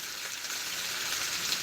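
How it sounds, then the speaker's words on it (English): Fish frying in a pot of hot oil, giving a steady, bright sizzle that holds close and even throughout, with a faint pop near the end and no voices. "First time frying in this pot though"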